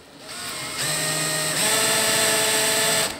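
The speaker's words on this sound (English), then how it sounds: "if I do this with a brad point drill bit" A power drill with a brad point bit whirs steadily, its motor pitch rising as the bit bores cleanly through wood, running alone for about three seconds before stopping.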